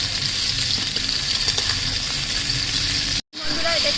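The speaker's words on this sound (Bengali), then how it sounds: "এটা কিন্তু হালকা করে ভেজে নিচ্ছি" Pieces of ridge gourd fry in hot oil with a steady close sizzle and light stirring, broken by a brief silent cut near the end.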